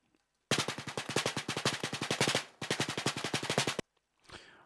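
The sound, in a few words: snare drum ghost notes track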